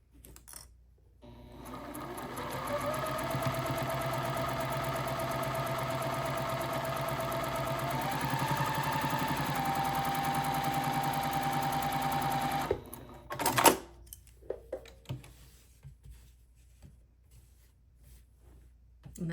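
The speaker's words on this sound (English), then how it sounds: "take it to our sewing machine after everything's lined up and sew a 1/4 inch from this end" A sewing machine stitches a quarter-inch seam joining nine-patch quilt block pieces, running steadily for about eleven seconds with a continuous whirring hum, then stops, followed by a few soft clicks and handling noises.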